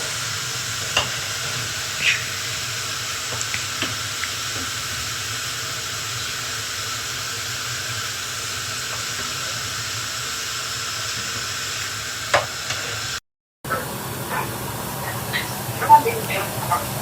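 Boondi drops for laddu fry in hot oil with a steady, even sizzle and hiss, flecked with faint crackles and pops and broken by one brief gap.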